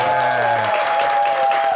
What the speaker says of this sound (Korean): 예, 박수 한번 부탁드릴게요.